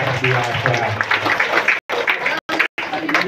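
An audience at a bilingual talk claps after a question, a burst of mixed hand clapping blended with voices, broken by several abrupt silent gaps toward the end.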